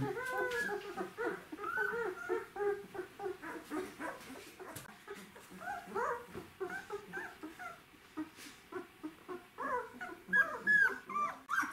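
Several puppies whimper and yelp in quick overlapping bursts, high and close, with a few small barks mixed in.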